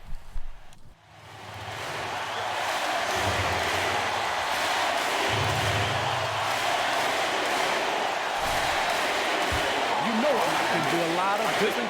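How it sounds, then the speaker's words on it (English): Arena crowd noise in the NBA 2K21 basketball video game swells from near quiet to a loud, sustained roar, with bouncing and thuds underneath and chant-like bursts late in the stretch. "Y'all already know what time it is when that crowd starts getting loud."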